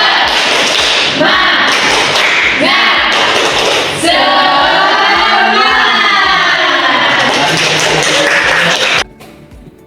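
A classroom group claps the rhythmic 'tepuk semangat' cheer in quick patterned bursts, loud and close, with children's voices shouting along between claps before it stops abruptly.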